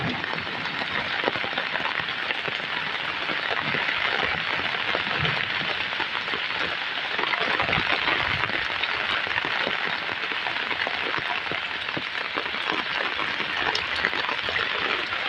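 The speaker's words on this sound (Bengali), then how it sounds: "কত বৃষ্টি হচ্ছে।" Heavy storm rain pours down steadily beside a flooded drain, a dense, unbroken hiss of drops hitting surfaces at close range for the whole stretch.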